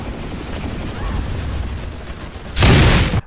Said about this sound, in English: they've added a sound effect to the flashbang. It's pretty obnoxious, so you'll know when it goes off.